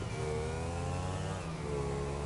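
In the video game GTA 5, a car engine revs and pulls away, a steady loud mid-pitched roar with a rising whine that holds for a couple of seconds.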